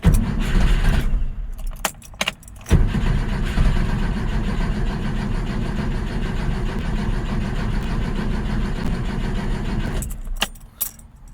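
A 1966 Porsche 912 with rebuilt carburetors idles loud and close after a brief start, a steady mid-pitched engine rumble that holds for several seconds before cutting off, with keys jangling near the start and end.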